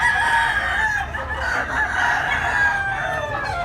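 Yellow-legged stag rooster crowing close and clear, one drawn-out call lasting a few seconds with no talk over it.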